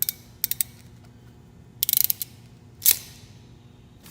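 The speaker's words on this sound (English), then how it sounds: "we're going to place it into the fusible tap provided by Boost Auto Parts. Then we'll go ahead and crimp it down." A ratcheting crimper squeezes a fusible tap connector during a towing mirror wiring install on a 2007-2014 Ford F150, giving sharp mechanical clicks in quick bursts with pauses between, close and alone.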